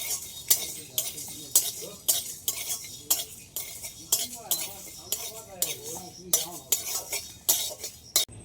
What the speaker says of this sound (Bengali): আর গোটা গরম মশলা নিয়েছি এলাচ দারচিনি আর লবঙ্গ এটাও দিয়ে দিলাম এগুলো সব একসাথে একটু ভেজে নেব